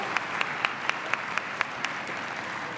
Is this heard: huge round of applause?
yes